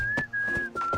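A video game character whistles a short broken tune in a story event: three clear, close whistled phrases, steady then slightly falling, with a soft pause between the second and third.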